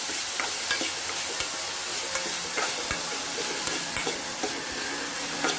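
Onions and spices frying in a pan on low flame, with a steady bright sizzle and crackle and repeated scraping, clicking stirs of a spoon against the pan, close and continuous without talk.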